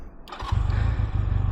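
A Honda Rebel 250 motorcycle cranks briefly and catches, settling straight into a loud, steady, throbbing low idle close by.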